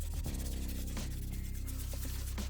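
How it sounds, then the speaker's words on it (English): Steady, continuous rubbing of sandpaper across the surface of a Jason hockey mask, a close, even scratching texture that keeps going without pause. "Now I'm just lightly sanding this whole surface of the mask."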